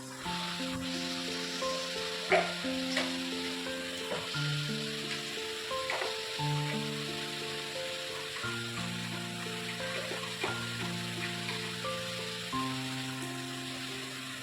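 Spices mixed with red chilli powder fry in a pan with a continuous close sizzle, broken by occasional scrapes and taps as they are stirred.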